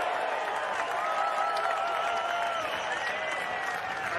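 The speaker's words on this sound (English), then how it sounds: "That's the biggest ovation of the championship so far." Dense, steady applause with cheering from a large golf gallery at the 2023 PGA Championship, sustained and loud throughout without a break.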